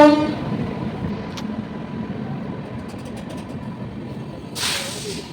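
A train rumbles into a station with a continuous heavy rolling noise, a brief horn-like tone early on and a sharp hiss of air near the end.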